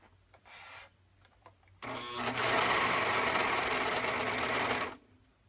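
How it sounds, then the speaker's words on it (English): A serger stitches the back and front crotch seams of little girls' legging shorts, running loud and steady for about three seconds after a few faint clicks and short bursts. "So we're going to serge the back crotch area and then the front, like from the waist down to the crotch."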